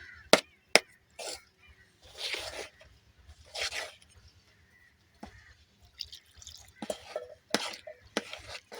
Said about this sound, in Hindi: इसे हम अच्छी तरह से मिक्स कर लेंगे।